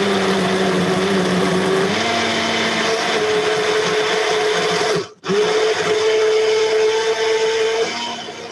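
Smoothie maker blender whirring during a live home cooking demo, a loud steady motor drone with a shift in pitch partway, a brief cutout, then resuming before easing off.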